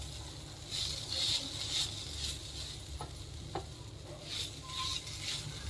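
Sweet potato khichdi is stirred in a frying pan, with a soft steady sizzle and scraping of a spoon against the pan, quiet and close.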